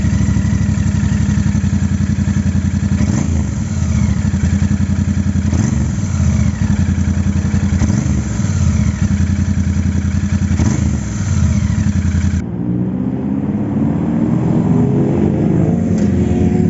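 A Royal Enfield Bear motorcycle engine runs at a steady, loud idle, with a rough, throbbing rumble that continues without a break.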